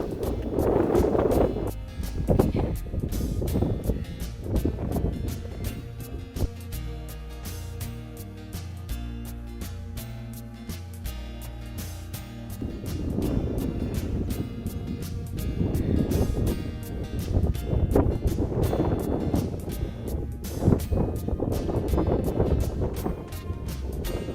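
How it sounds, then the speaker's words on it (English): Strong wind gusting to about 45 roars on a mountain in the Presidential Range of the White Mountains, buffeting the microphone in continuous heavy gusts, loud throughout with surging peaks and no voices. "Wind gusts are probably about 45."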